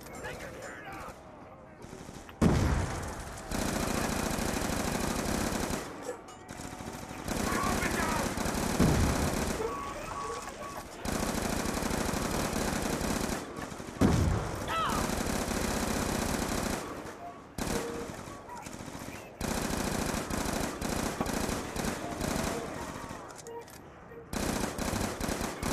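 Rapid gunfire from Call of Duty Black Ops 2 Zombies on the Die Rise map, sustained bursts running nearly throughout with brief gaps, loud and close, with players talking over it.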